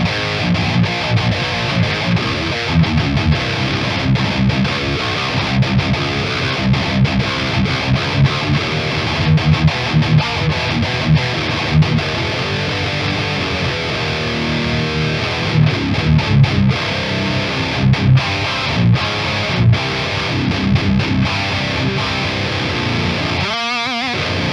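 Distorted electric guitar through the Amp Locker amp plugin, playing dense, continuous riffs with a thick, saturated tone for the whole stretch, loud and with no talking.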